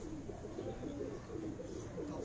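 A prized female pigeon coos softly while held in the hand, a steady low murmuring call running continuously and close, with no talk over it.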